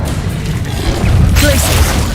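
Spell explosions in Hogwarts Legacy: a heavy booming blast swells midway and rolls into a rumbling crash with crackling debris, loud and close, following a low muffled rumble at the start.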